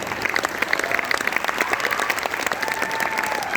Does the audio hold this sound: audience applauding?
yes